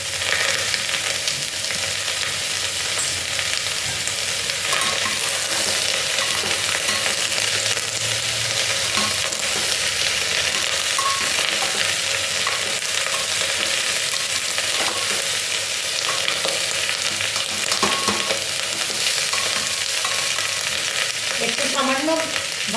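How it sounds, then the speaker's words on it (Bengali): Mung dal with turmeric sizzling in a pan as it is stirred: a constant close frying hiss with occasional scraping knocks from the spoon, and no talking. "একটু সামান্য ভাজতে হবে একটু।"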